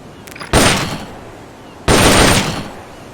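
An M16 assault rifle in Metal Gear Solid Peace Walker on PSP fires two loud, sharp bursts of rapid fire, each cracking in suddenly and trailing off, with quiet game ambience between them.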